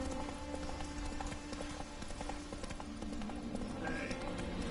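Horse hooves clip-clop steadily in The Witcher 3: Wild Hunt, a continuous rhythmic trot under game ambience and music, moderately close.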